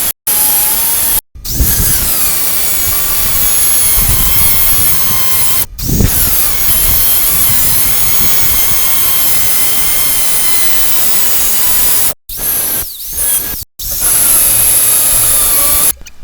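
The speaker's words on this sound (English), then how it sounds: "I had to grind off some metal so the curve of the chassis will fit." Metal is ground off a steel vehicle chassis in long, harsh, continuous passes, broken by a few brief stops, loud and close.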